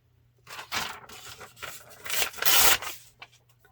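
Paper edges of a grungy vintage mixed-media junk journal page being trimmed with scissors, a few close rasping cuts and rustles in quick succession, louder toward the end, with no talking.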